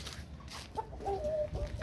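Hens cluck in short, soft bursts a little way off, over a low background rumble.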